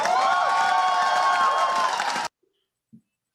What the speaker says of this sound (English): This is a typical press conference, I guess, with people cheering.